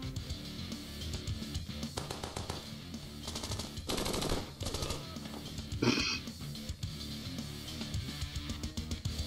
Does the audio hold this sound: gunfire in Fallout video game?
yes